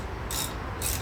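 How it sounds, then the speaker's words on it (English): A ratchet loosens brake caliper bolts during a regenerative brake pad replacement, giving two short bursts of clicking, faint and close, with no talk. "So I'm loosening the bolts that hold on the brake caliper"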